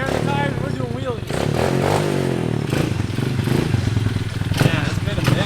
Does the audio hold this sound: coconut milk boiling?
no